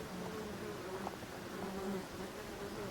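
Wild local black honey bees drone steadily at their nest inside a tree in a Breton marsh. The buzzing is continuous and dense, fairly close, and no one speaks over it.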